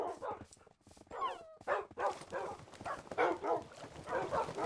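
A dog barks repeatedly up close, with yips and a thin whimper mixed between the short bursts, busy and restless throughout.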